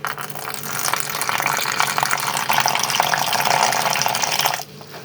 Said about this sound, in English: I'm using a half of cup to add water.